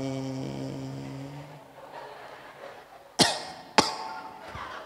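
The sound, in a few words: cough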